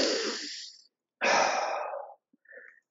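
Slow, deep breaths during a squat in a breathing and movement class: a long exhale, a pause, then a full audible inhale-exhale, close and clear with no talking.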